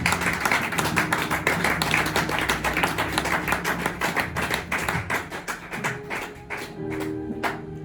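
A church congregation applauds steadily, dense rhythmic clapping filling the room for several seconds before thinning out near the end, with faint music underneath.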